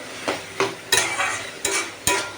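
Taro leaves (kochu shak) are stirred and fried in a pan: five or six scraping strokes of a spoon come at a steady rhythm over a soft, close sizzle.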